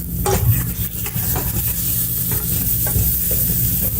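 Chicken biryani with garam masala and pepper being stirred in a pan: a steady scraping, shuffling stir over a soft background sizzle, continuing throughout with no talking.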